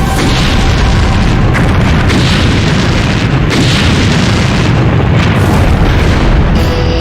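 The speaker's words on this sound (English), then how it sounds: "This put the Titan IV explosion as one of the most expensive failed space missions" A Titan IV rocket explodes, a loud continuous roaring boom with heavy low rumble that persists for several seconds without letup, no voices present.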